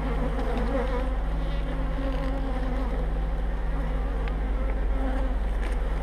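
Honeybees buzz steadily at a hive opened for a spring inspection, brood frames exposed, a dense continuous drone that holds even and close throughout with no voices.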